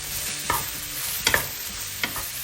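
Sliced shiitake mushrooms, salted, are stir-fried in a wok with ginger and garlic, giving a steady soft sizzle broken by three sharp clanks of the spatula against the pan, each loud and close.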